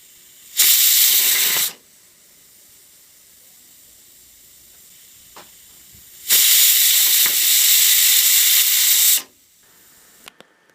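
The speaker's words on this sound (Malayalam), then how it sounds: "ഇനി നമുക്ക് പ്രഷർ കുക്കർ അടച്ചതിന് ശേഷം 3 വിസിൽ വരുന്നത് വരെ വേവിച്ചെടുക്കാം." A pressure cooker on a Kerala stovetop, cooking rice in coconut milk, lets off two loud sustained hissing bursts of steam, one short and one longer, with quiet pauses between them.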